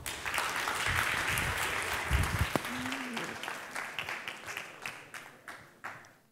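Audience at a science communication competition final in Trieste clapping, full applause at first that thins into scattered separate claps as it dies away.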